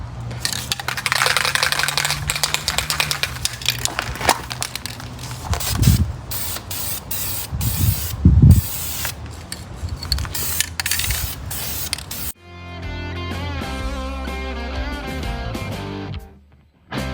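An aerosol can sprays primer onto rusty steel wheels in a string of close, hissing bursts with short breaks for about twelve seconds, then music takes over.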